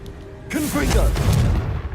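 A Confringo blast spell goes off in the video game Hogwarts Legacy, a sudden loud burst with a crackling, rumbling tail, while a voice speaks over it.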